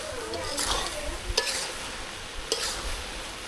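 Carrot and milk cooking down in a wok for carrot halwa, with a low bubbling sizzle and a few distinct spoon scrapes against the pan, close and fairly quiet.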